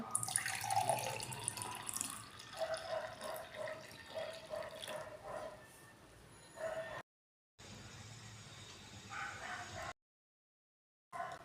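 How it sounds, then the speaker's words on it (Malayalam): Juice pours and splashes continuously into a glass, close and fairly loud, with brief gaps of silence and a faint dog bark in the background. "നമുക്കൊരു ഗ്ലാസ്സിലേക്ക് മാറ്റാം കേട്ടോ"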